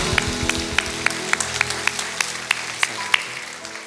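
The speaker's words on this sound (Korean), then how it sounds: "전부 되신 예수님께 영광의 박수 올려드리겠습니다" A church congregation claps in a steady, rhythmic beat, about three claps per second, lively and close.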